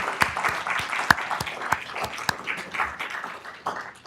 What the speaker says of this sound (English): I think we should give a round of applause to our speaker and everybody else that participated.